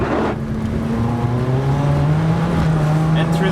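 A race car on a wet circuit takes a corner slowly, its engine droning near and loud and climbing steadily in pitch, with no speech over it.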